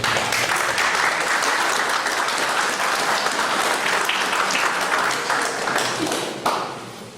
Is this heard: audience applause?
yes